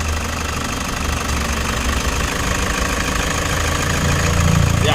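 A Toyota Hiace engine runs roughly at idle with a knocking, uneven rumble close by, growing slightly louder toward the end, with no talking.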